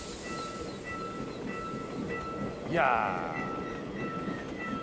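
A train rolls past at a Korean railway crossing, a low rumbling clatter under a steady high ringing bell tone, then a bright whooshing sweep as a carriage passes close; a brief voice exclaims.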